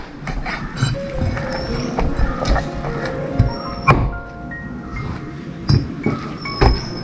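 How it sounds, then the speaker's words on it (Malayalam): A knife chops the legs off a cleaned duck for a Kerala-style duck curry, giving sharp irregular knocks and blade clinks on a board, close and fairly loud, with faint background clatter. "അതുപോലെ തന്നെ കാലും അങ്ങോട്ട് വെട്ടി മാറ്റാം."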